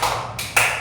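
A quick burst of hand claps follows in rapid succession, crisp and close, with a faint room hum underneath.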